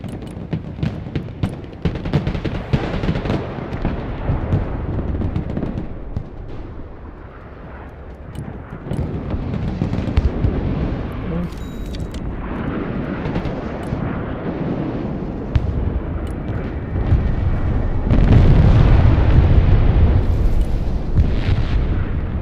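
Missile strikes in the video game Broken Arrow: a series of heavy, rumbling explosions and booms rolling one after another, loud and close, with dense blasts building toward the end.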